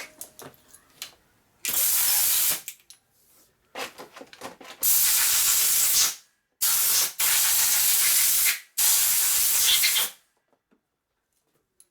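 A compressed-air nozzle blows on a 1947 Harley-Davidson EL knucklehead 74ci engine case during a rebuild and machining repair: loud, close hissing blasts of a second or more with sharp cutoffs, preceded by a few short puffs, with no talk.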